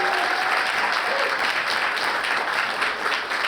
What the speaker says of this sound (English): If we could give him a thunderous round of applause for this